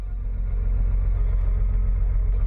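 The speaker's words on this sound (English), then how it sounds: "It's probably just the sound of the car." A car engine in an indie horror video game gives a steady, bass-heavy low rumble that holds evenly throughout, with no voices over it.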